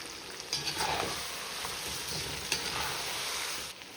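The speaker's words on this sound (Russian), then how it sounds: "Все, у нас специи раскрываются в масле, поджариваются." Carrots and spices fry in hot oil for a chicken plov zirvak, giving a continuous close sizzle with a few louder crackling bursts as the pan is gently stirred.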